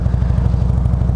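A Road King motorcycle with slash-cut exhaust idling close by, a loud, rapid, even chain of low exhaust pulses throttling steadily.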